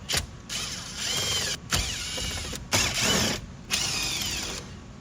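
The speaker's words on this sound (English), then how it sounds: "we've exposed the two 10mm bolts. I have a deep socket. We're going to pull those out." A deep socket ratchet backs out 10mm dash bolts during a Toyota RAV4 radio install, giving four runs of quick, close clicking separated by brief pauses.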